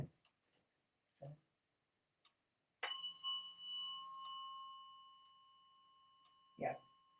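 A 174 Hz instrument is struck once after a few soft taps, giving a clear bright tone that rings on gently and slowly fades. A faint thud follows near the end.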